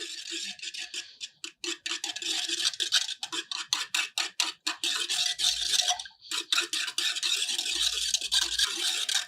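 Ragi flour porridge (ambali) being mixed with water in a bowl, a rapid run of close, crisp scraping and swishing strokes that repeat steadily for several seconds, with one short pause midway and no voices.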